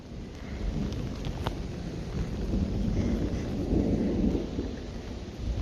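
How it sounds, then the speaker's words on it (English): Thunderstorm outdoors with steady rain and a low continuous rumble of thunder, rain hiss and wind filling the whole stretch with one sharp crack near the middle; no talking. "It's a rainstorm with thunder and everything."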